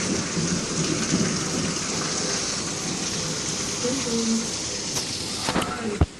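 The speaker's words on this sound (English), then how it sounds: "It is raining." Steady heavy rain from a thunderstorm outside, a dense continuous hiss with a sharp crack of thunder near the end.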